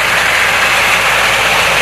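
A tractor arrives for the wheat harvest in the fields of Dadyal, its engine a loud, close, steady rumble that fills the whole moment without any voices.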